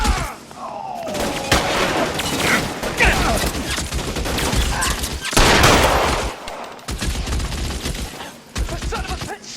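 A heavy exchange of gunfire in L.A. Noire, repeated close shots and bursts hammering in clusters with short pauses, loud and punchy, with a voice briefly heard amid the shooting.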